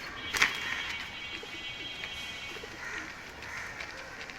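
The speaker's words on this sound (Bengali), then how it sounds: "এটা পুরান জাতের কবুতর" Old-breed Giribaz pigeons, black-necked silver birds, give soft, low cooing close by, with a brief louder call near the start and quieter murmurs after it, and no one talking.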